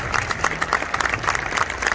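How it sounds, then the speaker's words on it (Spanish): A crowd claps steadily at a hospital recognition ceremony, a dense patter of many hands close by with faint murmuring underneath. "y que se escuche más este aplauso."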